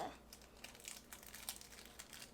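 Plastic wrapper peeled off a single slice of cheese, a quiet, close crinkling that runs steadily with small rustling bursts throughout.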